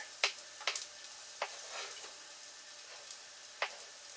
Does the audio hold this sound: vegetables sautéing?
yes